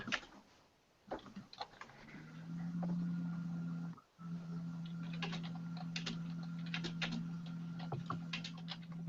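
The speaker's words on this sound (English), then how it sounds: "I'm just typing through for Ray to say a quick hello." Keys clatter in quick, uneven bursts on a computer keyboard, fairly close, over a steady low electrical hum.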